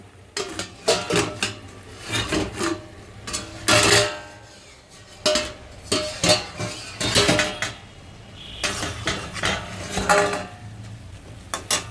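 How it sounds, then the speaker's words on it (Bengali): Pan lid lifted off cooking spinach and lentil dumplings (bori) dropped in, giving a run of close metallic clanks, knocks and scrapes in uneven bursts with no talking. "এবার ঢাকনাটা খুলে আমি বড়িগুলো ছেড়ে দিব।"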